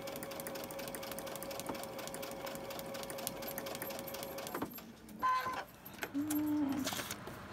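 A sewing machine stitching a paper-pieced quilt block runs with a steady mechanical hum and rapid needle clatter, then stops with a few short bursts and clicks near the end.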